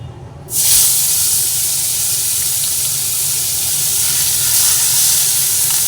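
Chopped onions drop into hot oil in a wok and burst into a loud, close, continuous sizzle that holds steady for several seconds.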